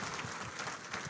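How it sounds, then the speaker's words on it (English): Audience applause at a public talk in Murang'a, a steady wash of clapping from a crowd for the whole short moment, fairly faint and distant. "Clap for her."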